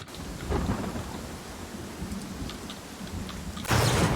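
Thunder from a storm in a video game rumbles low and steady over the hiss of rain, then a loud crash of thunder bursts in near the end.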